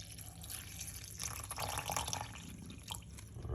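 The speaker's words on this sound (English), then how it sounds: "Here, we're gonna put some water." Water poured into a container in a home kitchen, a soft trickling and splashing that swells and fades over a few seconds, fairly quiet.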